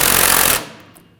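An impact tool rattles in one short, loud burst while snugging a rear shock absorber bolt on a 2008–2011 Ford Focus, then cuts off and leaves a fading ring.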